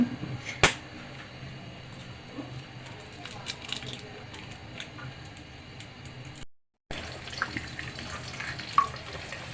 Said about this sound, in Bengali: এখন ডিম দুটোকে আমি একটু ভেজে নেব ঝুরি ঝুরি করে